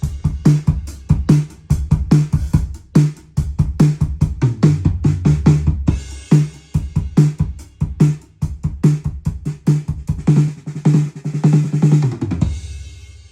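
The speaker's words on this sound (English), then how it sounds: "I like that snare a lot." A drum kit in a studio plays a steady groove with crisp, punchy snare hits over a kick drum, close and loud, ending in a short fill.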